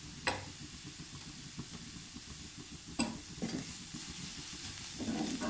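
Vegetables sautéing on high heat in a pan with chili and salt, a low, quiet sizzle punctuated by a few sharp clicks of a utensil against the pan, and the frying swells slightly near the end, with no talking.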